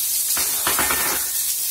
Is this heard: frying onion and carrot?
yes